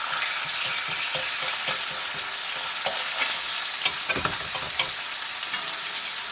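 Eggs and bacon fry in an overheated pan on an off-grid homestead stove, a dense continuous sizzle with scattered pops and stirring scrapes, close and steady throughout.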